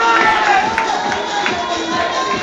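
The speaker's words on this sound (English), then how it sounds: "And the crowd goes wild." A stadium crowd at a Swinton Lions versus Workington Town rugby league match roars steadily after a score, a loud, continuous wash of cheering with no distinct speech over it.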